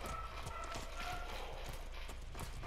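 Horse hooves clop in a steady quick rhythm as a mount moves through snow in the Ghost of Tsushima video game, moderately loud over a constant background hiss.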